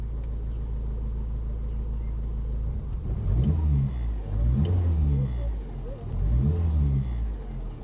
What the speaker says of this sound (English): I'm going to start her up so you can have a listen